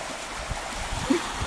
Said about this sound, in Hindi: देखा ही है मेन झरना है